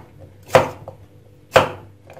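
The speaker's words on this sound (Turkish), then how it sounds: "Şöyle havuçlarımızı iri" Carrots being chopped into large chunks on a board for a lamb shank stew in a pressure cooker: two sharp, close knife strikes about a second apart, with no talking.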